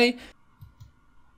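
A voice speaks briefly, then two soft, quick computer mouse clicks follow in near silence.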